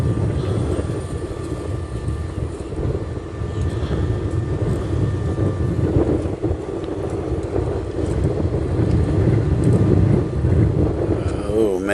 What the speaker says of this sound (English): Oh man, that is getting windy.